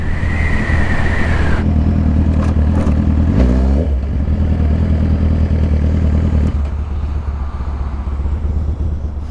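A Ducati motorcycle being ridden, its engine a loud steady drone close by with a revving swell partway through and a drop in tone near the end, no talking.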